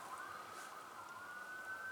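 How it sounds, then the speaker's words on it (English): A distant siren wails steadily, faint and far off, its tone sliding slightly as it holds on without any talking. "I hear sirens out there."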